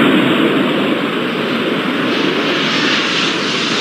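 Steady, loud airliner engine roar from the airport game Airport Madness 4, a broad continuous rush of a plane taking off with no talk.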